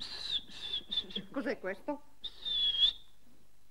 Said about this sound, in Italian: Un fischio micidiale?